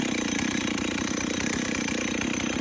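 A chainsaw runs hard at high revs while cutting into oak, a loud, close, continuous rasping engine roar with a fast chattering pulse.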